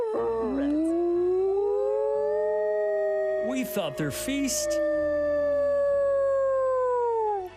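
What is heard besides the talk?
wolves howling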